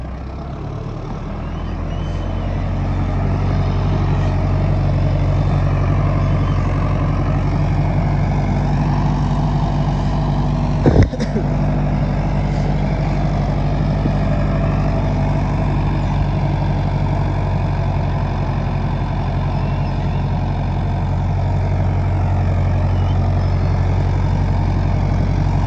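A Powertrac Euro 55 or Sonalika tractor engine runs steadily on sand, with a low, continuous diesel rumble and one brief knock partway through, and no voices.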